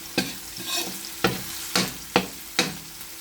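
Garlic and onion sautéing in a pan for pork pata kaldereta, a continuous sizzle cut by five sharp spatula scrapes at a steady rhythm.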